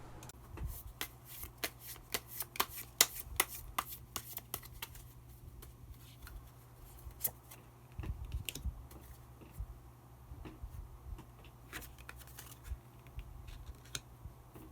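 Tarot cards are shuffled close up in rapid clicking, fluttering riffles, quiet but distinct, with a faint low hum underneath and a few short pauses.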